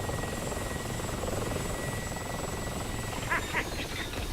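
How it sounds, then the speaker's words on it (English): Two helicopters hover and fly in a multiplayer video game, a steady rotor drone with a constant whine, joined near the end by a few short chirping tones. "2 helicopters going after him."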